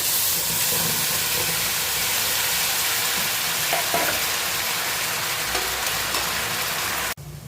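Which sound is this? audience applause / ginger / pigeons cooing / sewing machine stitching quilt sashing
ginger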